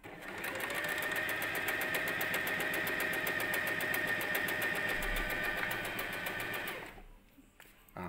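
A sewing machine stitches fabric with a steady, fast mechanical whirr and rapid needle ticking, running continuously up close for about seven seconds before stopping.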